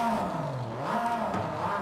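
A Porsche 911 GT3 R race car's 4.2-litre flat-six engine fires up in Forza Horizon 5, giving a short, close, rising rev with a whirring mechanical tone and no voices.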